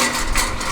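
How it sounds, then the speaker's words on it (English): Perkins electronic diesel engine cranking over on the starter without firing, a steady continuous churning drone that holds at a constant loud level throughout. "And now I will try to start the engine"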